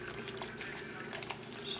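A steady stream of liquid pours into a pot for a pot roast, a continuous splashing wash at moderate volume with no talking.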